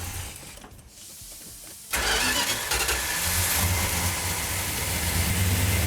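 A 1972 Dodge Duster 340 V8 cranks briefly, then catches and settles into a loud, steady rumbling idle, close up.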